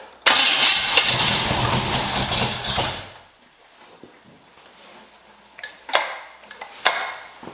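A small-block V8 swapped into a 1981 Oldsmobile Cutlass Supreme cranks loudly for about three seconds, a steady churning whir that stops without catching, followed by a few sharp clicks and short bursts.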